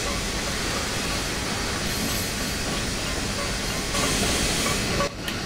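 A Union Pacific Big Boy articulated steam locomotive in a train simulator game gives a steady, loud rumbling hiss of running steam and rolling wagons, constant throughout with a brief dip near the end.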